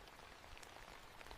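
Steady rain patters softly and evenly over an old town square at night, a faint continuous hiss of drops with no voices.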